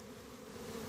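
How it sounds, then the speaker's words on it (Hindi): A honeybee colony with drones moving around gives a brief, faint but continuous buzzing hum close by, with no voices. "इसमें देखोगे आप, ड्रोन भी घूम रहे हैं कई सारे"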